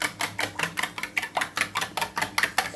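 Eggs with salt and chicken masala are beaten briskly in a bowl. The utensil makes a close, even run of about a dozen quick rhythmic taps, with no talking.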